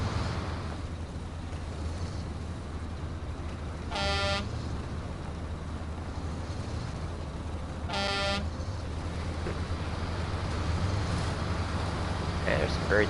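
Two blasts of a truck horn in the driving game Kodiak on Island Lake, each lasting about half a second and about four seconds apart, over a steady low engine drone inside the cab.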